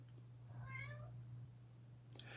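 A house cat meows twice, a drawn-out tonal call followed a moment later by a shorter one, faint and near, over a steady low electrical hum with no talk.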